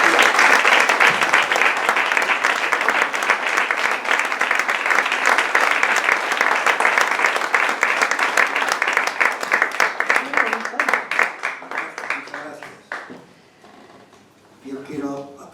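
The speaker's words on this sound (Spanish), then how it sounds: "quiero un fuerte aplauso para José María García" Audience at a poetry evening applauding loudly, a dense sustained burst of clapping that thins into scattered claps and fades near the end, with a few faint voices.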